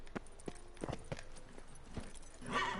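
Hooves of Geralt's horse Roach in The Witcher 3 clop quietly at a steady pace, soft and somewhat distant, ending in a brief rustling swell.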